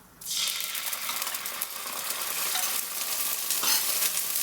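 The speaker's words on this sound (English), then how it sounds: "once they start to splutter, I'm going to put 1 teaspoon of ginger garlic paste" Ginger garlic paste dropped into hot oil for mutton kheema cutlets bursts into a loud, close sputtering sizzle that starts abruptly and crackles steadily with sharp pops throughout.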